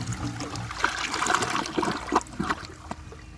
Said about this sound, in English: I'm going to go ahead and give that another flush and see if it can remove the rest of the dye.